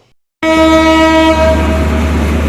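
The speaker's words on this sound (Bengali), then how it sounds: "মধুমতি এক্সপ্রেস ট্রেনের রিভিউ ভিডিওতে আপনাকে স্বাগত" Madhumati Express passenger train on a Bangladesh railway line, running loud and close with a sustained horn blast over its steady rumble, which starts abruptly after a brief silence.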